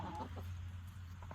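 Chickens in a mobile coop on a homestead farm cluck softly and intermittently, faint against a low background hum.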